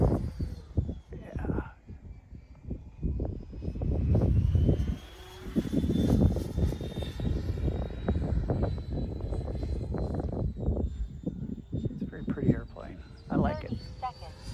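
A Freewing T-33 RC model jet flies aerobatics outdoors in a crosswind, its engine whine rising and falling steadily as it passes, heard beneath ongoing talk from nearby people.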